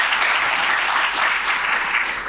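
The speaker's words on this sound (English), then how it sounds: "Can we give her a round of applause, please?" An audience at a business talk on Black entrepreneurs and executives applauds, with dense, steady clapping filling the whole stretch at a fairly loud level, no voices over it.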